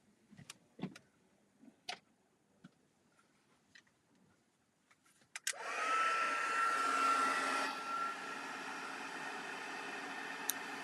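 Close and loud, a heat gun blows a steady roaring whoosh over gold embossing powder on a card, starting abruptly after a few scattered taps and clicks and then running continuously.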